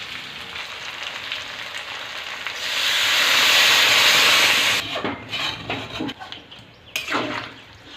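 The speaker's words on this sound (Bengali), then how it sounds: "এবার পরিমাণ মতো জল দিয়ে দেবো।" Water poured into a pan of chicken and jackfruit curry sets off a loud, rising sizzle and steam hiss that peaks and then breaks into bubbling and stirring clatter, close up with no talking.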